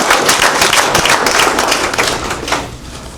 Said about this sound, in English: Clap for Ms. Woodbury again.